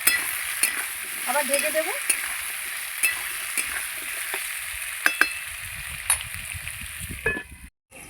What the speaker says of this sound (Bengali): পেঁয়াজ আর আলু একসঙ্গে আমি ভালো করে ভেজে নেবো, লাল লাল করে।